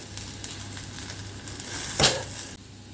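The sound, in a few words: egg frying in a little oil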